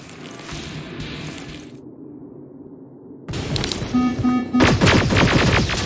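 Gunfire in the video game Terminator Resistance: a rapid burst of automatic fire, a short pause, then a louder, denser volley of shots with metallic clatter, close and intense.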